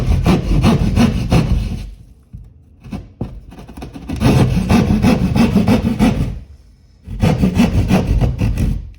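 A hand saw cuts a hole in a basement wall for a can light, three bursts of close, rhythmic rasping strokes separated by short pauses.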